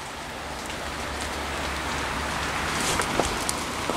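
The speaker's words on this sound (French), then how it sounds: "Mais je pense que c'est la pluie." Rain falls steadily on foliage in a wooded area during geocaching, a soft continuous patter with a few louder drops toward the end.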